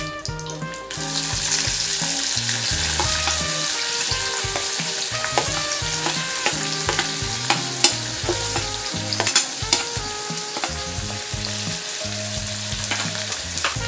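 Onion frying in oil with garlic and curry leaves, a loud steady sizzle with frequent scraping and clinking of a spatula in the pan, and no speech.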